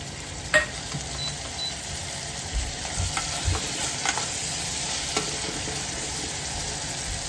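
Onion and garlic fry in a pan for a vegetable dalcha, giving a steady close sizzle with occasional scraping stir strokes and a few sharper clicks, with no voices.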